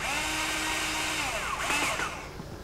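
A power driver runs a screw into the body of a DEWALT DCG412 cordless grinder, making a steady close whine whose pitch sweeps and wavers as the screw tightens.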